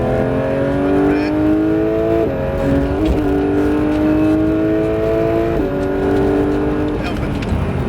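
A Porsche 911 992 GT3 accelerating on the Géoparc St Dié race circuit, its loud engine tone climbing through the gears in a run of rising whines with quick shift drops, with an in-car voice talking throughout.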